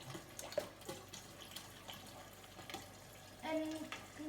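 Water from a Samsung RF4287HARS refrigerator dispenser runs into a pitcher as a faint, steady trickling stream, with a few soft clunks and a brief tonal hum near the end.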